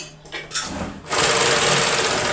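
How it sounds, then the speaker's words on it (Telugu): Sewing machine stitching a straight seam on a small-piece blouse: a few short starts, then a fast, steady whirring run close by, with no talk. "ఇలా ఈ మూలల సూది దింపుతూ స్ట్రైట్గా కుట్టు అయితే వేసుకుందాము"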